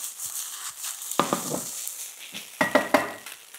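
Spices sizzle and fry in a pan for a pulled tofu and mushroom burger, with a steady close hiss and several sharp clinks of a utensil stirring against the pan, no talking.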